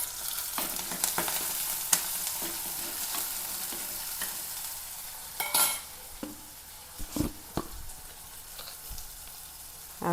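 Chopped onion, garlic and green chilli sizzle steadily in a pan, with scraping stirs and occasional louder clatters of a spoon against the metal, close by and with no talking.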